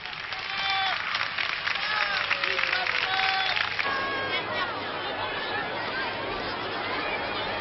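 Joyful, good-natured crowd on the boulevard Saint-Germain in Paris cheering and applauding Pope John Paul II, a dense steady roar of clapping and voices with whistles, loud at first and then easing slightly.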